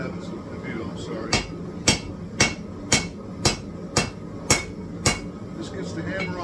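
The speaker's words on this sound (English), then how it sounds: "This gets the hammer on one side and the anvil on the other" A hammer strikes a 20-layer Damascus steel billet on an anvil in a home forge, roughly eight sharp ringing blows at a steady, even rhythm, close and loud over a low background hum.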